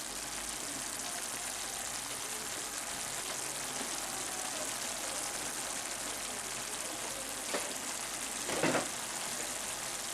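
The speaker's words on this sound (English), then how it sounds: "Let that simmer till all the oil rises." Chicken jalfrezi curry simmers in a pan as it reduces, giving a steady, soft bubbling sizzle that holds evenly throughout, with a couple of faint clinks near the end.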